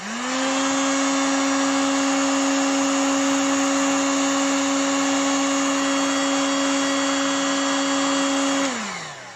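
A heat gun blows hot air onto the covering film of an RC plane, a loud steady motor whine and airflow roar with a constant pitch that spins up at the start and winds down near the end.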